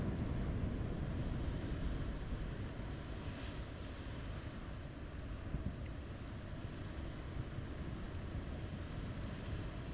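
Ocean waves wash steadily against a rocky shore, a continuous broad rush of surf with wind, fairly close and even in level throughout, with no voices.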